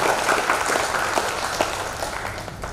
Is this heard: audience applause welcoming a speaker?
yes